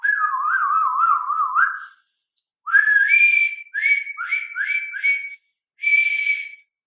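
A person whistles close up: a long warbling phrase, a pause, then a string of short rising notes ending in one held tone.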